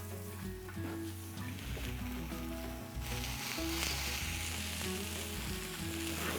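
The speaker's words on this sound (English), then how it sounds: "you can see all of that sizzling on the edge" Fish fillets sizzle and crackle steadily on a hot griddle plate with flames beneath, a loud continuous frying hiss with low rumbling underneath.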